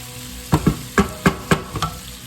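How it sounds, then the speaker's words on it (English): Pork sautés in a pan for a stew, with a soft steady sizzle broken by several sharp stirring clacks of a utensil against the pan in a loose rhythm. "the meat's still sauteing"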